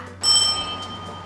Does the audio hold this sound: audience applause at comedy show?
no